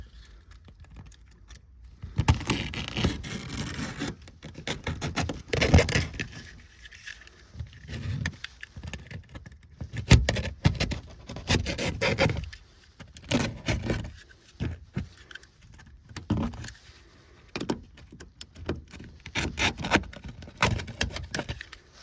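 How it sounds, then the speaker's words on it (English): A utility knife saws around the edge of a factory speaker in a 2019-or-later Toyota RAV4, with scraping, cutting strokes and plastic creaks coming in irregular bursts up close, and no talking. "let's get our utility knife and cut the speaker out"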